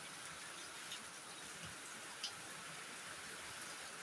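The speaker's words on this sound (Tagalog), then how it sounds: "So, mga people, umuulan dito ngayon." Steady heavy rain outdoors, a constant hiss of drops pattering on surfaces with an occasional louder drip.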